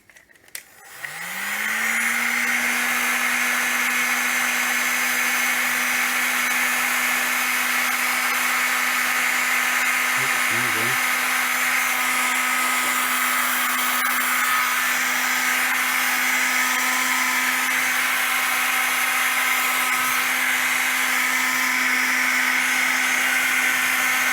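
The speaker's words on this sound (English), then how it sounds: "So I'm going to try and use the heat gun and see what happens." A heat gun runs continuously close by with a steady blowing whine while heating a plastic bottle to repair the air intake pipe of a Volkswagen Passat B5.5 2.0 ALT.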